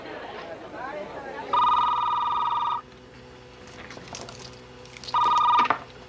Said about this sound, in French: Vinny, je te téléphone.